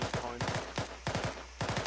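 Gunfire in the Arma military game: sharp shots ring out in irregular bursts and single cracks across the clip, fairly close and loud, with a few rapid clusters like automatic fire.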